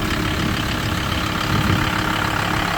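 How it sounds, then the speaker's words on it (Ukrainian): A Volkswagen LT van's engine idles steadily, a low, even rumble that holds constant throughout with no talking. "Двигун чисто працює"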